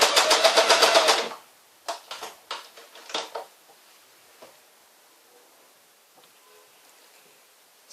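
A sewing machine runs in a fast, steady whirring burst for about a second, then stitches in several short stop-start runs before falling quiet.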